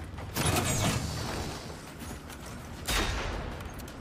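Gunfire aimed at a robotic machine in Generation Zero, two loud bursts of shooting about two seconds apart, close and harsh with metallic rattling between.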